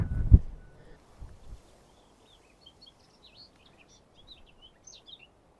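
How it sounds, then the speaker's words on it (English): A blackcap sings in fragmented, scratchy warbling phrases at a distance, faint and intermittent over quiet outdoor ambience on an early May coastal path at Ventnor, Isle of Wight, after a brief low thump near the start. "Probably heard that, blackcap."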